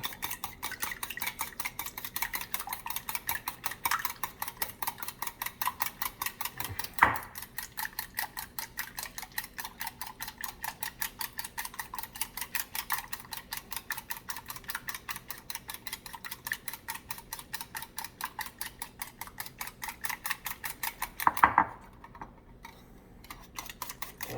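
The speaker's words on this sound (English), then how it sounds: "Then you'll whisk the daylights out of it." A whisk beats eggs in a bowl for a French omelet, making fast, steady rhythmic clicking and tapping that continues for over twenty seconds, with a couple of louder knocks against the bowl.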